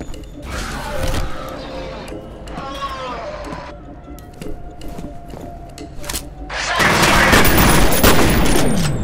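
Bursts of gunfire and mechanical clatter from the video game F.E.A.R., with sporadic shots early on and a loud sustained barrage near the end, while someone talks over the action.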